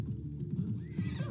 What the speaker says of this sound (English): Phobos again, hopping on the horse.